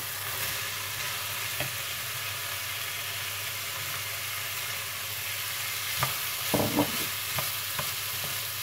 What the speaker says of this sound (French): Et je mélange.